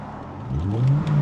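A BMW 645ci coupe accelerates hard during a back-to-back performance test, its engine note rising steadily in pitch from inside the cabin, loud and continuous.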